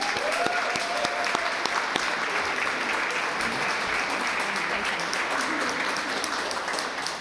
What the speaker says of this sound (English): give a nice round of applause to our wonderful First Lady